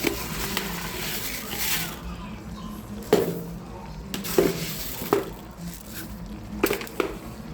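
A spoon scrapes and stirs rice in a pot while making Trinidadian chicken pelau, sounding as soft, irregular scraping knocks over a low sizzle.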